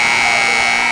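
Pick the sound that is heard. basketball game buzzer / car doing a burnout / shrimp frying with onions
basketball game buzzer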